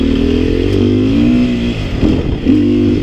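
A 300 SEFR two-stroke enduro motorcycle rides tight single-track trail, its engine loud and close with a steady buzzing drone that dips briefly around the middle, then crackles and revs back up.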